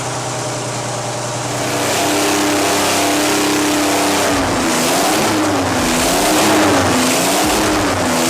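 A Detroit Diesel V71 series engine running loud and close, its drone rising and then wavering up and down in pitch as it revs.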